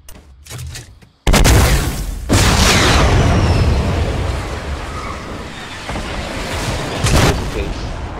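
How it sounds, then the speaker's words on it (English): A rocket launcher fires and its rockets explode in the Fortnite battle royale game, giving sudden loud booms: a sharp blast, a second heavy burst soon after, and another boom near the end over a rumbling background. "Using this rocket as a scout."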